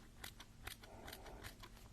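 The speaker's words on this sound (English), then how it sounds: "Where's my little scissors?" Small scissors make several quick, crisp snips at an irregular rhythm, close but faint, alongside light handling of fabric pieces.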